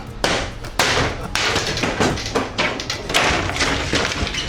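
Hammer blows on a sturdy interior wall during screw removal in a renovation, a rapid irregular series of loud, sharp thuds and knocks close to the microphone with no speech.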